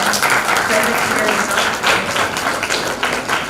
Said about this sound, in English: Can we have a huge round of applause for the most loving parents present here